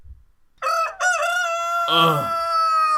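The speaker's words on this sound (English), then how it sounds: "cock-a-doodle-doos to announce the beginning of a new day" A rooster crows a full cock-a-doodle-doo at dawn, loud and close, in two rising bursts followed by a long sustained harmonic call; quiet low rumble precedes it.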